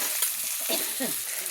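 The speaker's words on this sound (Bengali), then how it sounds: "টমেটোটা আমি একটু ভেজে নেব, যাতে টমেটোটা গলে যাওয়ার মতো আমি ভেজে নেব" Tomato frying in oil alongside already-browned onions for a prawn curry, a soft continuous sizzle with brief scraping stirs, close and quiet, no talk.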